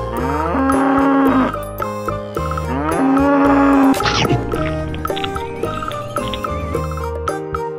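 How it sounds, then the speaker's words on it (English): A cow moos loudly in two long, drawn-out calls, set over looping music with bright, ringing tones, in a game featuring animals such as cows, buffalo and elephants. "Cow,"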